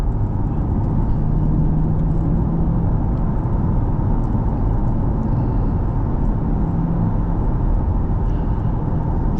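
A C8 Corvette engine hums and drones from inside the cabin while driving around town, a steady, muffled low rumble with brief rises in tone and no talking over it.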